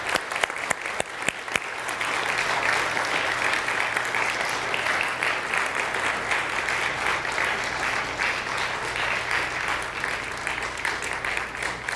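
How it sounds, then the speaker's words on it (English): A worship audience applauds steadily as prayer partners come forward at a Sunday gathering in San Diego, sustained clapping from a sizable crowd filling the room at even loudness throughout. "would you join me in a round of applause as they make their way in front"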